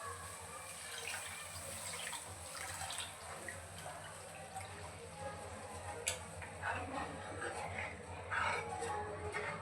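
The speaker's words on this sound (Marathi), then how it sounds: "आता जे डाळीचं पाणी आहे ते आपण इथे टाकणार आहोत." Lentil cooking water is poured into a pot of Maharashtrian amti, a faint, continuous watery trickle and splash heard close up and quietly.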